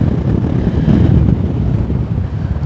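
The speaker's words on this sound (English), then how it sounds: "Wow, it's windy over here." Strong wind buffets the microphone beside Eastbourne pier, with the rough, choppy sea churning underneath in a steady, loud rumbling roar that runs continuously without any talk.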